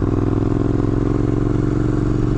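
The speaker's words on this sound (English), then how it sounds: "I can definitely tell that this bike has a lot of power." Triumph Scrambler motorcycle with a 2-into-1 exhaust accelerating in low gear on a wooded trail, a loud, close, continuous throbbing engine drone with a rapid pulsing beat.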